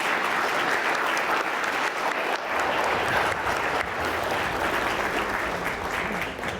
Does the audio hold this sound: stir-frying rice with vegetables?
no